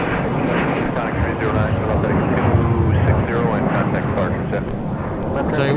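An airliner taking off directly overhead at Minneapolis–St. Paul airport in gusty winter winds, a loud sustained jet roar that swells in the middle, mixed with wind buffeting on the microphone and people talking underneath.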